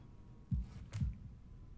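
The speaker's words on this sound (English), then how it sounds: "holding my breath in an attempt to hear my heartbeat" A faint, slow heartbeat in the Katawa Shoujo visual novel thumps twice, low and muffled, over a quiet background hum.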